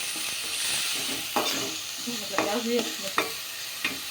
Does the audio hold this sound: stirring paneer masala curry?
yes